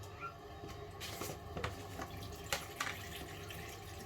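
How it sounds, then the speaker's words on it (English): Water runs from a tap into plugged sinks aboard a boat, a steady broadband rush with a few soft clinks and splashes throughout, fairly close with no talking. "So we put the plugs in and we start filling."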